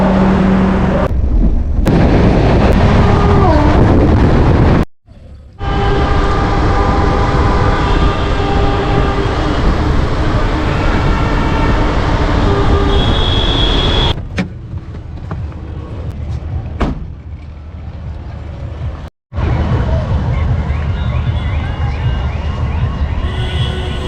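Kolkata-Guwahati Garib Rath Express 12517, a loud continuous rumbling roar of a passing train with rattling wagons and brief cut-outs, heard close by without talk.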